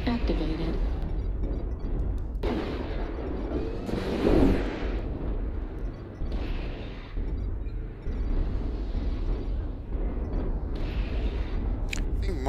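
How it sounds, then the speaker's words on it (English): Rumbling airstrike explosions in the MechWarrior Online game, heavy booms rolling one after another with a louder blast near the middle, over constant mech engine drone and occasional radio chatter. "Airstrike activated."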